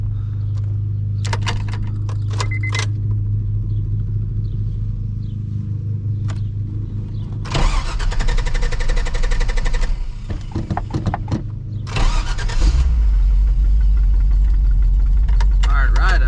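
A custom Japanese hot rod's engine cranks in short, noisy bursts after a few light clicks and rattles, then catches and settles into a loud, deep, steady idle close by.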